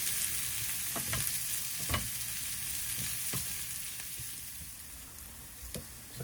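Cumin, paprika and garlic granules fry in a pan in a narrowboat galley, a continuous close sizzle broken by regular scraping stirs about once a second.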